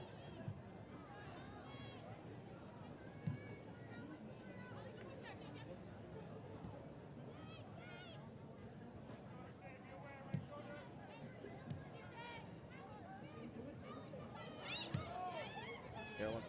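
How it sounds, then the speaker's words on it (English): A stadium crowd at a women's professional soccer match, North Carolina Courage against Houston Dash, reacts to a referee's decision with a broad, sustained murmur and babble, under steady commentary. "You can hear what the crowd thinks."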